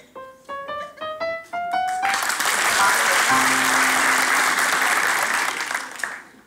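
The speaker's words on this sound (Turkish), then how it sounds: "beyler alkışlasın doğruysa" In a Turkish TV studio, men in the audience burst into applause after a few short musical stings; the clapping swells quickly and stays loud and full before tapering, with a low sustained tone entering partway through.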